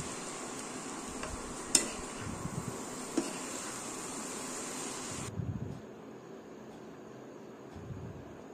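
Bitter gourd, chopped fine, stirred with onion and tomato in a pan, giving a soft, continuous scraping and sizzle with a few sharper clinks of the spoon, fairly close and quiet.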